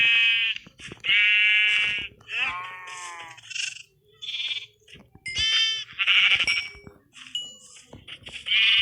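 Sheep bleating in the video game Minecraft, a series of loud, close, wavering bleats repeating one after another across the whole stretch with no talk.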